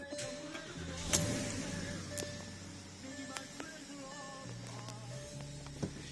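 A Porsche Cayenne S 957 idles steadily eight minutes after an intake port carbon clean, a low even engine hum close by, with a few faint clicks and brief tonal whines over it.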